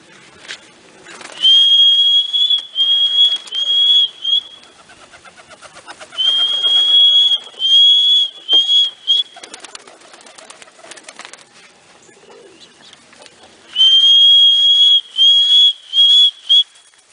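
A person whistles loudly in three separate bursts of short, high, warbling notes, with quiet gaps between the bursts, calling racing pigeons back to the loft.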